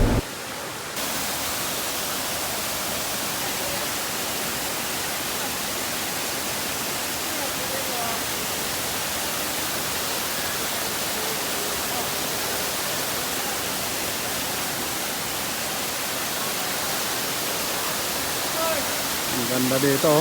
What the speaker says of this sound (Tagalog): ito nga pala yung gitna ng falls nila